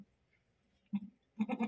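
A pregnant goat close to giving birth lets out two short, nasal bleats, the second longer and wavering, close by in a quiet setting.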